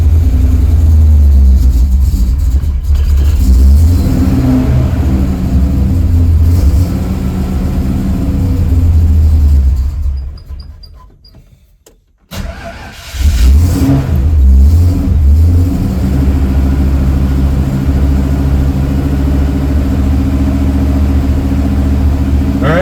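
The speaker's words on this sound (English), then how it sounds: "It's cold out, so let's choke it a little bit and fire this thing up." A cold carbureted car engine, started with the choke pulled, runs loud and close at a fast idle with revving swells, briefly dies down and is then running strongly again.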